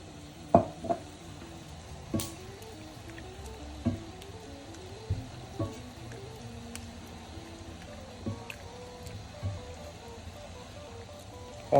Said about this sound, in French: On mélange bien.